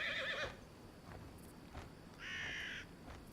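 Two horse whinnies from the video game Pathfinder: Kingmaker, one short and one a little longer, separated by a pause and heard quietly over a faint ambient background.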